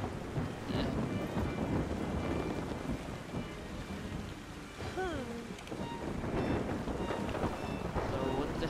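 Stormy weather in the video game Yonder: steady heavy rain hiss with low thunder rumble throughout, and a brief rising whistling tone partway through.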